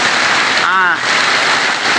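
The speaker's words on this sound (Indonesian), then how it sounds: "Hujan habis. Hujan lebat." Heavy rain pours down on a durian orchard, a loud, unbroken roaring hiss heard close from a small shelter hut, with a brief voice cutting through midway.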